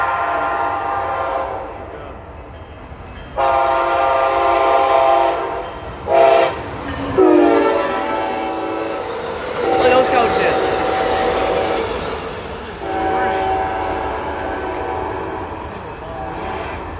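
An Amtrak passenger train with a heritage unit rumbles fast past Sumner station with a sustained horn blasting several times, loud and close, interrupted by brief bursts, with steady mechanical roar throughout.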